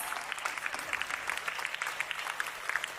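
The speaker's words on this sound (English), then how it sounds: "Give them a thunderous round of applause." A school assembly audience at a grade 10 and 12 blessings day breaks into a round of applause, a fairly soft, dense patter of many hands clapping heard from some distance, steady throughout.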